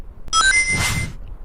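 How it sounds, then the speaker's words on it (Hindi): A telephone rings with a short electronic tonal burst, fairly loud and alone, as a son calls his mother in her village. "एक दिन तेजस गांव अपनी माँ के पास फोन करता है।"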